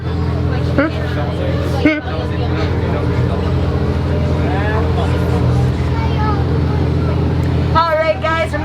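A Jungle Cruise boat at Disney moves along with a steady, low motor drone underneath a guide's constant narration and some passenger chatter.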